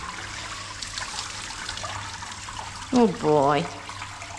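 Running water rinsing a matted, flea-infested Cockapoo during grooming, a steady close splash and trickle, with someone briefly talking over it.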